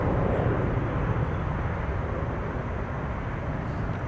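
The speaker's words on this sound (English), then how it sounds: "Airbus A330." Airbus A330 airliner at Chicago O'Hare International Airport, a steady broadband jet engine roar holding at an even level for the whole stretch, with no voices over it.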